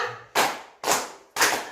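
Three sharp, evenly spaced hand claps ring out in a classroom rhythm exercise, each decaying briefly, after a faint voice at the start.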